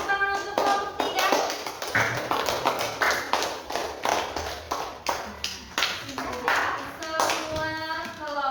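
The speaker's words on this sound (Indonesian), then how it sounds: "Beri tepuk tangan untuk kelompok 3." Classroom applause from a fifth-grade class for group 3: a steady run of many hands clapping close by for several seconds, with children's voices calling out over it.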